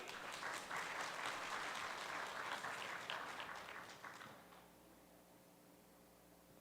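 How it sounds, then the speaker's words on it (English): A crowd at the 2023 Multicultural Forum claps loudly and evenly for about four seconds, then the applause thins and trails off into near silence with a faint room hum. "掌声欢迎"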